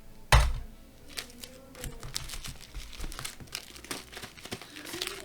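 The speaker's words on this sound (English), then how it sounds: "when I have the eBay tape on there, I'm going to do one more across the seam. It's loud." eBay packing tape is ripped off the roll and pressed across a cardboard box seam: a sharp loud tearing burst at the start, then a run of crinkly rubbing and tapping as the tape is smoothed down, close up.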